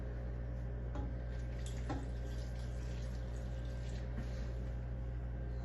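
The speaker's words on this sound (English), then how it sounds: "then we add 2 cups of warm water" Warm water is poured into a pot while mixing homemade playdough, a steady continuous pouring and running-water wash lasting throughout, close and moderately quiet.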